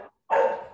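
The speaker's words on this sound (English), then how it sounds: "somebody's barking." A dog barks once, close and fairly loud, after a brief quieter sound and a moment of silence, during a conversation about a beat poetry festival.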